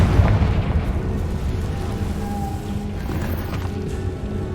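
A Confringo fire spell bursts in the Hogwarts Legacy video game, giving a loud rumbling blast that opens the clip and rolls on as a heavy, sustained low roar.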